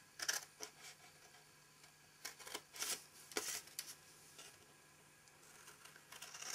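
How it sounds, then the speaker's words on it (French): Paper being separated along a fold by hand, heard as soft crinkling and rustling bursts close by, some sharper crackles between quiet pauses. "séparer ce pli jusqu'à la deuxième ligne de pli"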